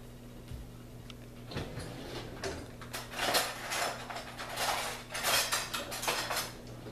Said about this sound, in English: Let me grab another spatula.